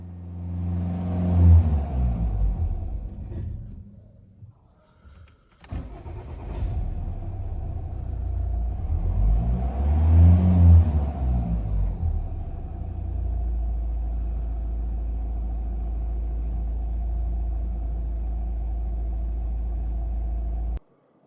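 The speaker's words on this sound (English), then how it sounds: "if we get in and start the engine, rev it up" A 2015 Volvo V40 2.0 diesel engine revs, cuts out briefly, then fires up again after a fuel filter change, revs once more and settles into a steady low idle.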